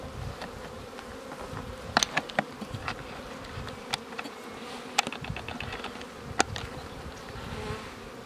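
Honeybees swarm over an open, queenless hive with its lid lifted, a close, steady buzzing hum punctuated by sharp clicks and taps from the wooden frames.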